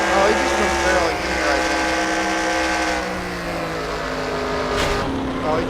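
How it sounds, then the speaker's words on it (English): A stock car engine in the NR2003 racing sim drones loudly with a steady, harmonic whine that fades slightly as it loses power, under a commentator's talk. "you could hear there the immediate loss in engine power"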